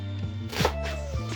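A knife dices an onion on a cutting board, giving a couple of sharp, close chopping knocks in quick succession over a faint background hum.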